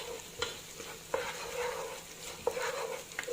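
Onions frying in a pan for a trotter stew sauce: a continuous close sizzle with a few sharp spoon stirs and scrapes against the pan, no voices.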